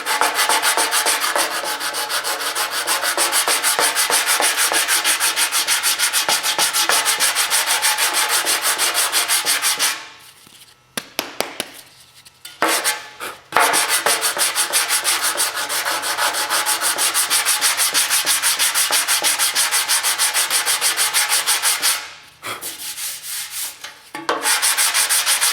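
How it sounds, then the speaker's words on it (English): Car bodywork is sanded by hand with steady, loud rubbing strokes in a crisscross motion, continuous scraping that pauses briefly twice before resuming. "So let's get the sanding."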